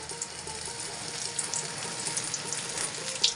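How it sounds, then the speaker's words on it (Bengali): Soft, steady frying crackle of eggplant in oil, close and low in volume, with faint scattered pops. "আমি বেগুন কেটে বেগুন ভাজা বসিয়ে দিয়েছি"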